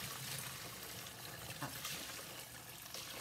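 Bone broth with turmeric is poured slowly through a strainer into a Tupperware bowl, a faint steady trickle and splash of liquid with no talk.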